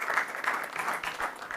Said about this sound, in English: even give you a little round of applause for helping us get this done